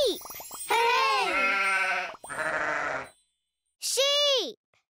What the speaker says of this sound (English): Sheep. Bah.